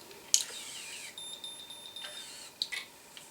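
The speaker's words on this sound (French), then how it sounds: "vous allez entendre un triple bip tout de suite, et l'appareil va s'arrêter tout seul" A Babyliss Perfect Curl hair curler gives three short, high electronic beeps in quick succession as it shuts itself off, fairly faint over a quiet background.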